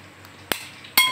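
An egg is cracked on a bowl rim for coating fried meatball skewers: two sharp, close taps followed by a faint ringing clink, with no speech.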